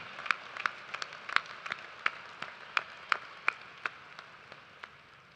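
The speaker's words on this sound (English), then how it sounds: "Let's give a round of applause to everyone who made this a celebration to remember." Scattered, fairly faint individual claps ring out at a university commencement ceremony, a dozen or so sharp hand claps spread unevenly rather than a full roaring ovation.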